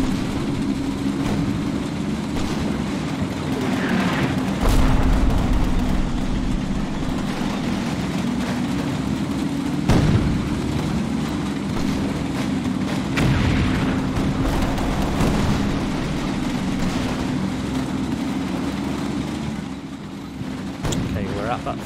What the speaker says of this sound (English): Just taking some fire.